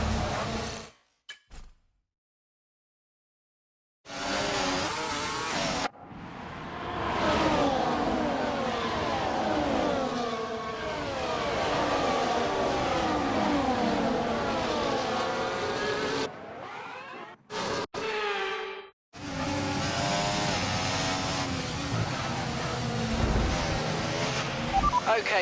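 Internal combustion engine running in a racing video game, a sustained revving drone with shifting pitch that cuts out briefly near the start and again around the middle, with speech-like sound over parts of it.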